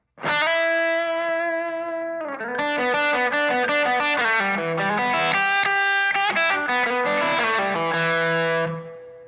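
A distorted electric guitar plays a blues lick: a held bent note, then a quick run of notes, loud and upfront with no voices.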